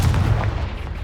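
A Confringo blasting spell explodes in the video game Hogwarts Legacy, a loud, booming, rumbling blast that fills the brief moment before decaying, with no talking over it.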